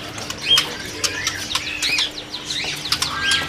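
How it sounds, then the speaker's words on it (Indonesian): Bright, varied song of a white-rumped shama with quick whistles and chirps, fairly close, over a low steady background hum, at a bird market. "jenis burung murai batu ya"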